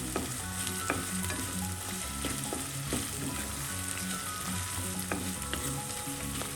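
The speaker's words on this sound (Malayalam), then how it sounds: "എല്ലാം കൂടെ ഒരുമിച്ച് മിക്സ് ചെയ്ത് വഴറ്റാം." Okra masala ingredients sauté in hot oil for Bhindi Masala, a steady close sizzle and crackle broken by repeated scraping and stirring knocks of a spoon against the pan, with no voices.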